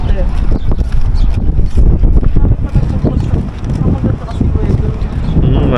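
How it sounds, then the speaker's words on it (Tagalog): Strong outdoor wind buffets the microphone with loud, continuous low rumbling and gusts, while people talk underneath. "Mahangin, no? Hindi ganong mainit."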